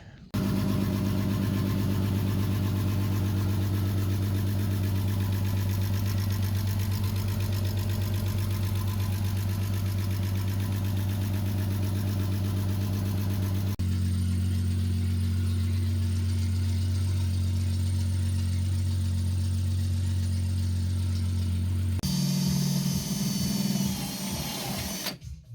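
A freshly swapped engine in a VW MK1 GTI idles with a steady, close, even drone throughout. The tone shifts slightly twice along the way, and no one speaks.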